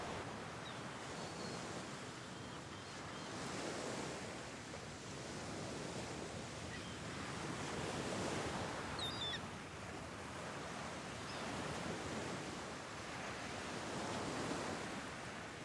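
Surf waves rolling onto Hiriketiya Beach in Sri Lanka, a steady broadband wash that swells and recedes in slow cycles every few seconds, with a faint breeze and no voices.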